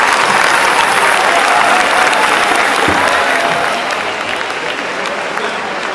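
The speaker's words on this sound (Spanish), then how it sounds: "aplauso fuerte para las charangas de Mario" Loud, dense applause from a large crowd, tapering slightly toward the end.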